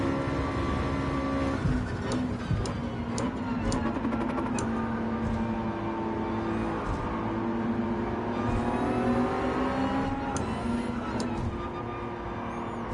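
A Subaru engine in a racing video game revs hard and steadily, a loud continuous drone with rising and falling pitch and sharp clicks over it.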